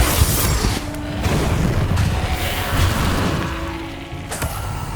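Explosive Confringo fire-spell blasts in the Hogwarts Legacy video game, set in the map chamber, with loud rumbling booms and crackling bursts that run continuously and peak again near the end.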